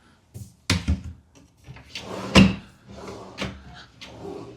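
Wooden hotel room drawers under a TV stand slid open and shut several times, giving sharp thuds and knocks with brief sliding rubs between them, close and clear with no talking.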